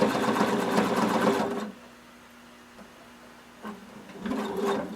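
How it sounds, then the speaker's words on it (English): Sewing machine runs a very narrow zigzag stitch over elastic, with a loud, rapid mechanical whir for about a second and a half, a pause, then a brief burst and another run of stitching. "You're going to be using a very narrow zigzag stitch."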